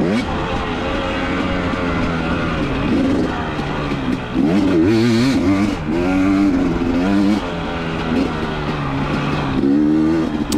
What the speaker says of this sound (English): 2019 KTM 250 XC. Running superb. Bike was crisp all day. Pulling really strong.